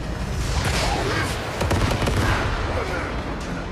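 Rapid AK rifle fire in the shooter game Once Human, dense continuous shots with someone talking over them.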